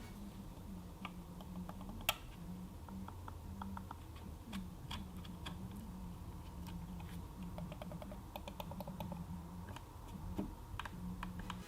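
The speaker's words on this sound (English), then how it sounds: "here's a quick example of just how silent that click is" Quiet clicks from a Logitech MX Master 3S wireless mouse, a scattering of faint, soft ticks at an uneven pace over a low steady background hum, no talking.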